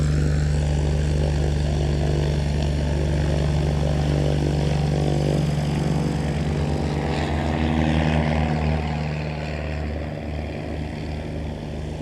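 A propeller skydiving plane drones loudly and continuously as it takes off and climbs, a steady engine hum with a slight fade toward the end and no talk.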